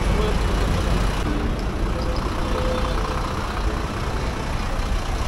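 A Hanif Mercedes-Benz non-AC coach bus idles with a loud, steady low diesel rumble that holds constant throughout and has no speech over it.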